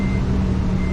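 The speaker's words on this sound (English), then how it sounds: "let me go ahead and start the truck up" A Toyota truck that hasn't been driven since the day before idles steadily with a low engine hum and a high, continuous tonal whine, loud and close, with no voices.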